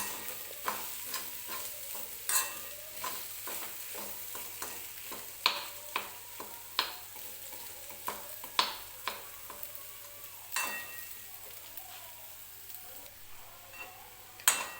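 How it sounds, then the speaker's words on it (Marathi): Chopped potato is stirred into a frying pan for bread pakoda patties, a spoon scraping and clicking against the pan in repeated sharp strokes over a faint sizzle. "आता कट केलेला बटाटा जो आहे तो टाकून घेणार आहे मी परत छान असं मिक्स करून घ्यायचं आहे"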